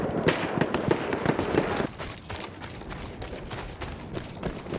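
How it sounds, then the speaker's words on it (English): Scattered distant rifle gunshots in the video game Battlefield 1 crack and pop in quick irregular bursts, fairly faint, over a busy background of battle noise. "I hear the gunshots for the distance."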